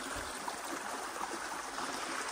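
Water rushing steadily through a roughly one-meter-wide drainage ditch after a beaver dam was removed, a constant broadband gurgling flow at moderate level with no talking.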